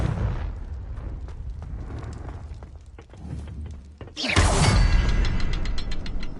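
A Confringo blasting spell explodes in the video game Hogwarts Legacy, a sudden loud burst midway that follows quieter rumbling and clattering and then rings out in a sustained crackling roar.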